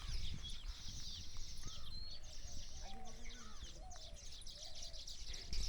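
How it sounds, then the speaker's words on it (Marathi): Many birds call from a single tree holding several nests in rural Konkan during the monsoon, giving faint overlapping chirps and short calls against a quiet outdoor background. "ते एका झाडावर मला वाटतं 20-25 तरी पाखरं आहेत आणि 4-5 तरी ती घरटी आहेत पाखरांची. किती आवाज येतोय बघा."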